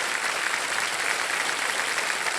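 A studio audience on the game show Kaun Banega Crorepati applauds a contestant, producing a steady, dense burst of clapping at even volume throughout, with no talking over it.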